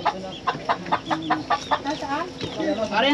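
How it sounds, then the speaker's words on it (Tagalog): A hen with her chicks clucks in a series of short rhythmic calls at close range. High peeping chirps join in near the end, and faint talk runs underneath. "Ayun, manok eh. Oh, may sisiw pa eh"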